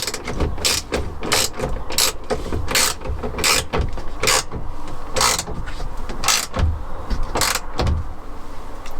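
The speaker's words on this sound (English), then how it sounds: "now I'm tightening the bolt that holds it all together back up" A ratchet clicks in quick repeated bursts, close up, as it tightens the steering column bolt on a classic Fiat 500, with light metallic handling between strokes.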